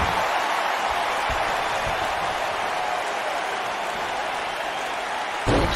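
Steady roar of a packed arena crowd in the WWE 2K19 wrestling video game during a Monday Night Raw match, a dense, unbroken wash of cheering that holds at an even level, with a brief louder swell at the very end.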